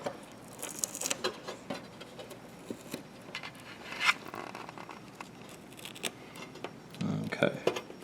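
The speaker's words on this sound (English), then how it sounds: "I'm going to just lift up that tape" Tape is peeled off wires inside a Yamaha MO8/Motif keyboard, giving close, soft crinkling, scratchy rustles and small pops with sporadic handling noises and a brief louder scrape near the end.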